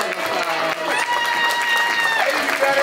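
Audience applause and cheering for a contestant at a pinup contest, a steady wash of clapping with a host's voice talking over it throughout.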